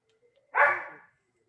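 A single short dog bark, fairly faint and somewhat distant, in an otherwise quiet indoor setting with a few soft ticks before it.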